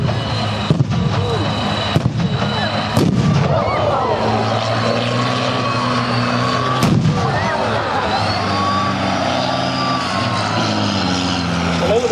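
Pyrotechnic explosions at an armoured vehicle (CVRT) show thump and crack several times over a loud, continuous outdoor rumble, with occasional sharp bangs scattered through the display.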